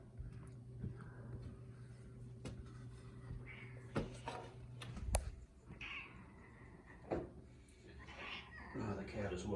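A house cat meows a few times in a kitchen while eggs are cooked, the short cries coming over scraping, clattering cookware and a person talking.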